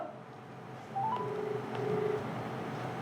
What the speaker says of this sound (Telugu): కాల్ అయితే రింగ్ అవుతుంది.